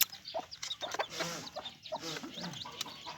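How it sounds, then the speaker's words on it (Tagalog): Chickens clucking close by in short, irregular bursts, with some faint background noise and no talking. "oh mga manok guys"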